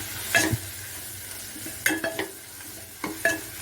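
Spice powders being stirred into onions and tomatoes for sambar in a pan on low heat, a soft background sizzle with three short bursts of close scraping stirs spaced about a second apart.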